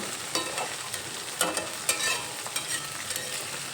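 Ginger, garlic and green chilli frying in a pan while being stirred, with a soft continuous sizzle and a few louder scrapes, close and without talk.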